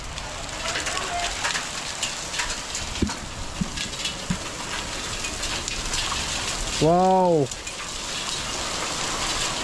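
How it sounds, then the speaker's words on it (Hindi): Hail and heavy rain pour down in the Uttarakhand hills, a steady dense hiss of drops with scattered sharper impacts, close and continuous; a voice exclaims briefly near the end. "ये देख रहे ओले कितने पड़ रहे हैं।"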